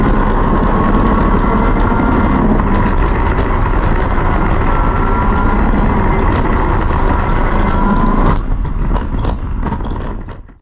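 A racing kart engine screams at high revs as a loud, dense mechanical roar that cuts out abruptly near the end, falling into scattered rattles and clatter before fading away.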